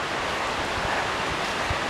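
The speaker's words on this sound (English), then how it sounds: "First drop along the waterfall, the last one we get to see." Crabtree Falls near Tyro, Virginia, cascading in a steady, dense broadband rush of falling water, close and continuous with no voices, only faint low thuds beneath the roar.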